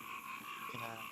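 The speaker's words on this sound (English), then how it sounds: "You can hear those frogs in the background," Frogs croak in a dense, continuous chorus in a swamp, a buzzing wall of calls at moderate distance that fills the short stretch without pause.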